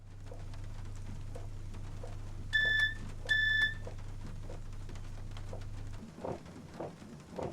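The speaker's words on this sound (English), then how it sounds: "the SWT variant has a different sound for the guard's buzzer, which sounds a lot more modern than the Southern version" Guard's buzzer on a SWT Class 456 electric multiple unit in a train simulator game, two short, clear electronic beeps close together over a low steady hum, followed by quieter cab noises.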